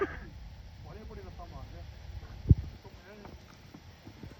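A horse's hooves clip-clop softly at a steady walking pace, fairly faint, with voices talking over them and one sharp knock midway.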